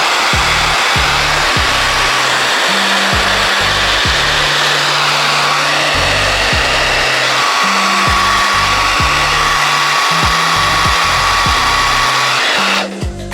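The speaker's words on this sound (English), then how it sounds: "I'm going to be hitting it with the blow dryer as well." A hair dryer blows loudly and steadily, its motor hum shifting in pitch as it is moved about, before cutting off at the end.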